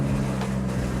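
BMW M140i engine turning over and settling into a steady, loud idle with a deep low rumble, close by and without speech.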